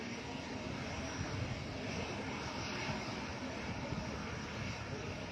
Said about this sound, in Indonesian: memantau penerbangan perdana pesawat maskapai